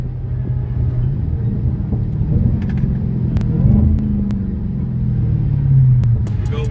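A Dodge Charger Redeye launches hard without launch control, its deep engine rumble loud and close inside the cabin, swelling as it revs and climbs through the gears.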